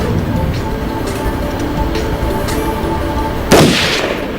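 A single sharp gunshot fired at a target rings out once near the end, a loud broadband crack that fades into a short echo over a steady low rumble of background noise.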